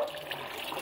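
Fish tank filter in a masonry fish-rearing tank, fitted with a filter mat, running steadily with a soft continuous trickle and splash of flowing water, close and fairly quiet, no voices.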